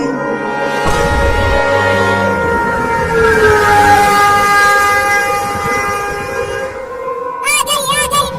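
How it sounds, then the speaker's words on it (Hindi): A train arrives with loud, sustained rumble and rolling wheel noise, long tonal horn-like hums overhead, and a brief burst of sharp higher tones near the end. "देखो मम्मी ट्रेन आ गई"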